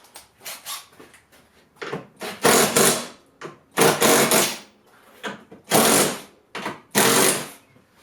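A power tool tightens the lower supports of a rear seat kit on a 2006 Club Car DS 48-volt electric golf cart, whirring in short repeated bursts with brief pauses and clicks between them.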